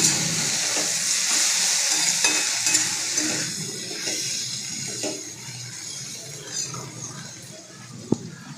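Okra stirred in a hot pan with salt, turmeric and red chili, giving a constant sizzle and frying hiss with scattered scraping stir strokes and a sharp clink near the end.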